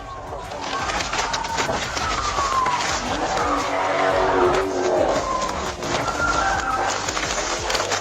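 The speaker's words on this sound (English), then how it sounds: "the driver chose to flee, leading officers on a dangerous high-speed pursuit" A Dodge Charger tears along city streets in a high-speed police pursuit, its engine roaring steadily with tires squealing and skidding, loud and continuous over a rushing road noise throughout.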